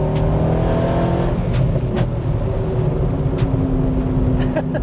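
A twin-turbo Ford GT engine roars close by and builds as it accelerates, a strong low drone with rising whine, with no talking.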